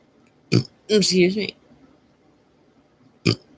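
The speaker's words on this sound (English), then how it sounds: "I just burped different." A close, loud burp stretches out for about half a second, framed by two short vocal bursts before and after.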